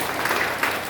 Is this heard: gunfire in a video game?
no